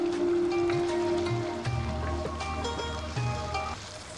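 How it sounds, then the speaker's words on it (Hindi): About three to four tablespoons of water poured into a pan while cooking ketchup chicken, giving a steady, close splashing stream that runs the whole time with little change in loudness. "यहाँ पे मैं पहले 3 से 4 टेबलस्पून पानी का डालूँगी।"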